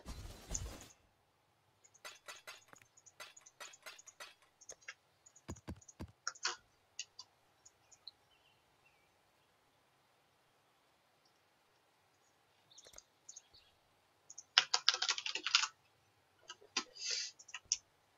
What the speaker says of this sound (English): my microphone is literally on the other side of my keyboard to my mouse, so the fact that it's picking up all the mouse presses as well means that something's wrong